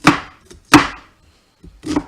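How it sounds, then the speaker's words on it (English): A knife slices crossways through an onion, with sharp chops landing on a cutting board at an uneven pace and quiet gaps between them. "Try to maximize all of that onion. Slicing crossways"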